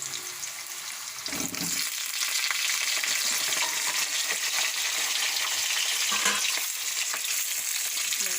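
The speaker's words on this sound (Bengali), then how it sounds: "এরপরে দেওয়া হচ্ছে টুকরো করে কেটে রাখা আলু" Cut potato pieces drop into hot oil in a kadai already holding bay leaf, dried red chili, whole cumin and cinnamon, giving a sudden, loud, continuous sizzle close by that holds steady, with occasional stirring clatter.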